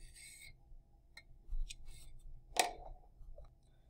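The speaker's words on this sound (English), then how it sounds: "And I'll give that 2 or 3 passes to make sure I cut through the paper on the bottom." A blade slicing through paper along gear slot lines in a bearings and gear slot project, heard as a few faint scratchy strokes with one sharper cutting snip near the end, alone over quiet room tone.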